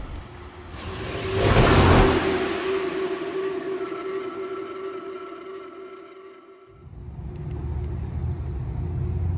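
2021 Chevrolet Traverse 3LT engine starting up: a brief cranking whoosh flares into a revving rumble that slowly settles to a steady idle, then a deeper low hum takes over.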